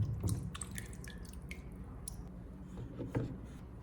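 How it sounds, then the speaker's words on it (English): Rinsed potatoes sit draining in a colander, giving off quiet, scattered drips and soft wet squishing sounds with no one speaking. "Drain the potatoes in a colander and let them dry."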